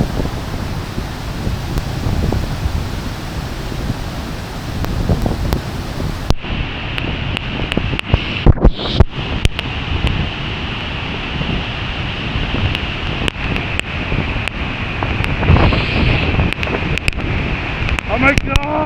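A waterfall on the Four Waterfalls trail in Brecon roars close by as a loud, continuous wash, heavily buffeted by wind on the microphone, with people shouting over it.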